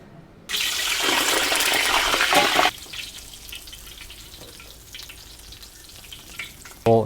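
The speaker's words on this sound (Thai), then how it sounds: "ตั้งน้ำมันให้ร้อนนะแล้วก็เอาส่วนทางนั่งอะลงไป แล้วนั่งมันจะฟูขึ้นมา" Thai crispy pork belly (moo krob), oven-baked first, drops into hot oil and erupts in a loud, dense sizzle for about two seconds, then settles into a quieter, steady bubbling fry with a clank at the end; no talk.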